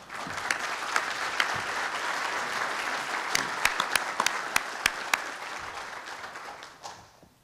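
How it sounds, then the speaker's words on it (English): An audience applauds as a speaker stands up at a lecture on financing the Texas Revolution. The applause is continuous, with a few sharp individual claps standing out, and it fades away at the end. "give him even more applause when he stands up right now"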